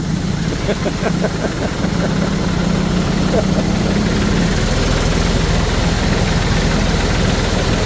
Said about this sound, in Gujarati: આ ભાઈ ઉપર એક્ટિવા ચલાવે છે